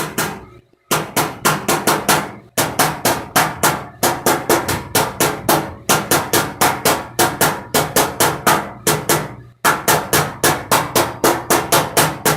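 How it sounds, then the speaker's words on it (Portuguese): A small wooden block taps out a dent in a car body panel, producing rapid sharp knocks in quick bursts of several strikes separated by brief pauses, close and crisp. "eu volto as partes que ficaram mais altas, eu volto com cuidado do taquinho de madeira"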